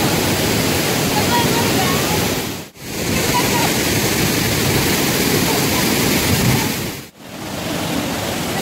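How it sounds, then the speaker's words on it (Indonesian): Steady, loud roar of the Curug Sawer waterfall at Situ Gunung, a dense rushing hiss that fills the whole clip with two brief dropouts. "Air terjun itu menurut penelitian banyak mengandung ion negatif"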